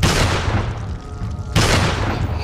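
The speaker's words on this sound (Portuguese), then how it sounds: "Não é pra ter errado esse tiro, mano." Gunfire in Resident Evil 4 on Extreme Condition difficulty: a loud booming shot, a brief quieter gap, then a second heavy blast that rings on to the end.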